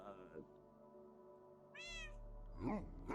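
A couple of Minecraft cat meows ring out over a quiet hum, one high and short, another lower and drawn out, with faint background tones.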